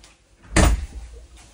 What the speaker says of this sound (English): Slider door, there's your lock. I'll slide this shut.